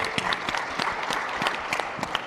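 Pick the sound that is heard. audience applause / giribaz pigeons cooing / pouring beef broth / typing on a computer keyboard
audience applause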